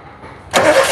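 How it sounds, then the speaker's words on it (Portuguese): A Fiat Uno engine cranks and fails to catch: a quiet lead-in, then a loud, abrupt burst of churning starter-motor noise that holds steady to the end, close by with no talking. "o carro não quer pegar"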